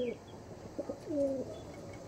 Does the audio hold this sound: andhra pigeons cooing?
yes